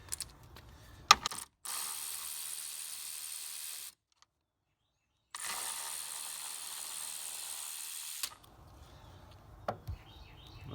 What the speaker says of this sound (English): So let's just go ahead, take this little fan shroud out.